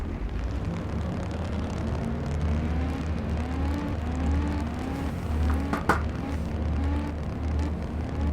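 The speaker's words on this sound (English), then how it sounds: "Let's go trackside for the command to start the engines." A field of IndyCar engines in NASCAR Racing 2003 drones and revs together, a loud, continuous layered whine with rising and falling pitch sweeps and a brief sharp burst near the end.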